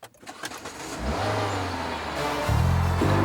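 A Renault Laguna's engine is started with a key card and starter button: a brief starter whirr, then the engine catches and settles into a steady idle that rises in pitch as it revs near the end.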